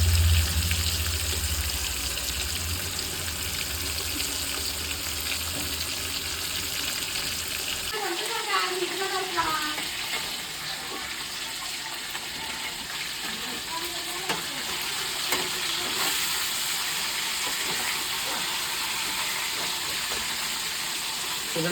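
Fish frying in oil in a pan gives a constant close sizzle throughout, with faint clinks of stirring and low talk under it partway through.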